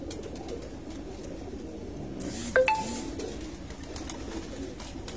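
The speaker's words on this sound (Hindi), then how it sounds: "ये बटेरे कबूतर है" Bateray pigeons coo low and steadily on a rooftop in Sukkur over a constant background murmur, with a brief metallic clink partway through.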